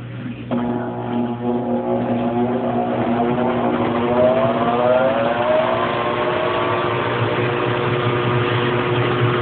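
A Brastemp Baby Mondial washing machine spins up with a loud, steady motor hum. A rising whine climbs in pitch as the drum speeds up, and no voices are heard.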